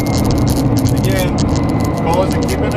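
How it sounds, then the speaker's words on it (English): A tuned Nissan GT-R R35 with an ECUtek-tuned transmission accelerates hard and upshifts around 7000 rpm. The engine roars loud and close inside the car, and someone talks over it. "So now the upshift, if I hit it, it's going to upshift at 7."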